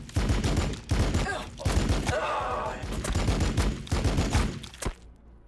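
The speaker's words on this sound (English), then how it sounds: "We're taking fire! We're taking fire!" Dense gunfire rattles nonstop in Warhammer 40K Battlesector, overlapping bursts and single cracks stacking into a loud battlefield fusillade, with a brief lull near the middle before volleys resume and cut off sharply at the end.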